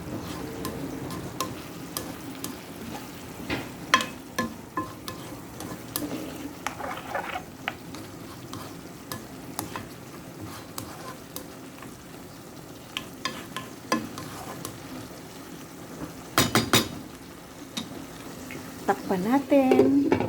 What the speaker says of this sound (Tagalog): Then, mix. Para ma-mix yung